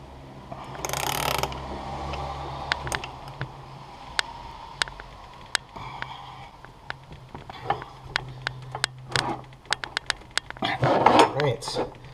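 A ratchet wrench cranking on an Ohlins Road & Track coilover for a 2018 Subaru BRZ tS, rapid clicking bursts and sharp metallic ticks spread through the clip, with someone talking over them.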